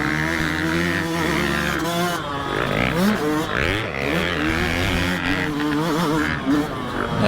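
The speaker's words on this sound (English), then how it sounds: "There he is, so finally he was able to pass me right here." 2020 Yamaha YZ250FX and YZ125X dirt bikes racing on an off-road track, their engines buzzing and revving loudly and continuously at close range as they pass.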